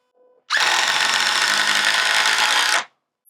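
A DeWalt 12V Xtreme impact driver drives a 3.5-inch deck screw, a single loud continuous buzzing burst of about two seconds that stops abruptly, close by with no talking.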